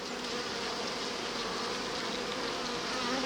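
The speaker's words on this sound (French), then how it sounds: "C'est plein d'abeilles cirières en train de travailler" Honey bees in an open hive, wax-making workers covering the frames, give a dense, continuous buzzing drone that stays close and even throughout with no voices.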